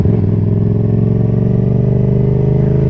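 A Yamaha XSR700 motorcycle being ridden at a steady cruise, with a loud, constant mid-pitched engine drone and no revving changes, heard close from the rider's position.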